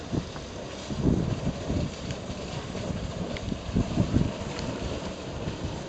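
Breezy wind blows steadily outdoors, a continuous low rumble with gusty swells and buffeting, heard alone without talk.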